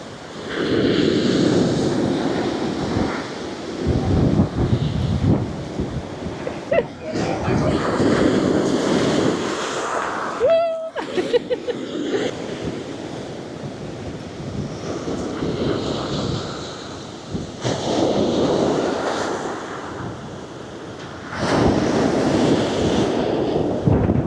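Rough, stormy sea waves crash and wash onto a windy beach at Ölüdeniz, the surf swelling and retreating in loud rolling surges while strong wind blasts the microphone throughout.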